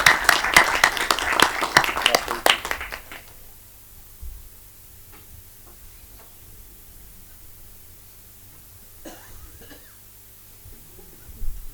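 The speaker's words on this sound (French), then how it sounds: "Bravo, on peut l'applaudir." Audience applause at a municipal council meeting in Dreux, a dense burst of clapping for about three seconds that cuts off, followed by quiet room tone with a few faint knocks and murmurs.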